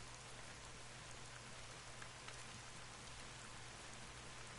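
Steady rain falls in theHunter: Call of the Wild video game, a constant soft hiss of drops spread evenly through the whole stretch, fairly quiet, with no talking.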